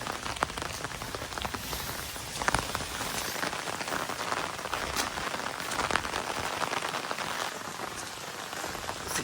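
Rain pours down onto a waterproof phone outdoors on a farm, a loud, dense patter of drops striking close to the device without pause.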